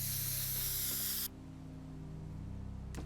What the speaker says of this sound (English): I love my little spray can.